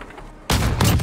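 Gunfire in a Call of Duty Modern Warfare multiplayer gunfight: after a quiet half-second, a loud burst of shots erupts and continues as dense, rattling fire to the end.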